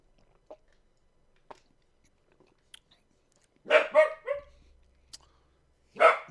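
A dog barks a few times in short bursts, close and loud, with small clicks and quiet gaps between the barks.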